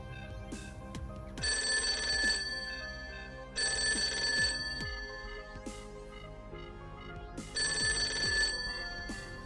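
An electronic telephone bell rings in three long bursts separated by pauses, steady and clear with no voices.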